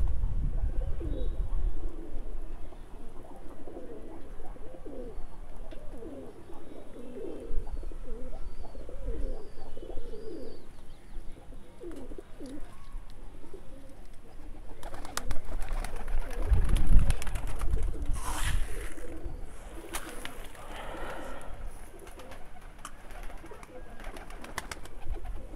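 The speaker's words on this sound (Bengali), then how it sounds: "যে দেখতে পাচ্ছেন দর্শকবৃন্দ কবুতরগুলো খাচ্ছে" Pigeons feeding outdoors on a rooftop give repeated low, rolling coos, with bursts of fluttering wings and scuffling mixed in over a steady outdoor background.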